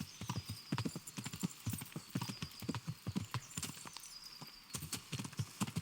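Horse hooves clip-clop at a steady trotting rhythm in the medieval video game Kingdom Come: Deliverance, the sharp repeated hoofbeats close and clear, with an occasional faint snort and no speech.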